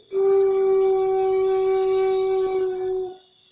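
A saluang bamboo flute blown in one long, steady, breathy tone lasting about three seconds, clear and close with no talking.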